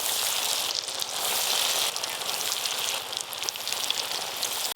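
Bhetki fish fingers frying in hot oil give a dense, steady, close sizzle that runs unbroken from start to finish, like heavy rain hissing on a surface.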